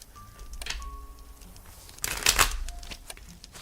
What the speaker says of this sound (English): I want you to be able to hear my card shuffling noise.